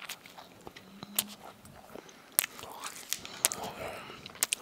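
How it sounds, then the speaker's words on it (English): Food from a 7-Eleven, such as a donut, is bitten and chewed close to the mic, giving soft crunches, wet mouth clicks and sharp cracks at irregular intervals. "I'm gonna take a bite and I'm gonna chew it for you guys"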